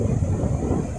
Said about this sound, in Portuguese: O vento tá zoando um pouco,